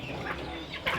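A Surma rooster, about one and a half years old, on a rooftop farm, giving soft, close clucks in a couple of short bursts over a steady background.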